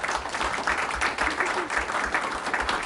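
Audience members at a city commission meeting clap in a steady round of applause, dense and continuous, moderately close, with no talk over it.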